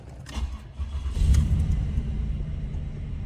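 Buick Reatta bought at a salvage auction cranks briefly, catches and settles into a steady low idle rumble, close and fairly loud, with no talk.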